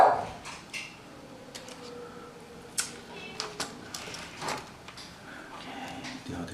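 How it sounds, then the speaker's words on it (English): A dog barks and yips indoors during the disassembly of a Powerbook 3400c laptop, giving several short, separated barks at moderate distance over a quiet room. "Sorry about my dog."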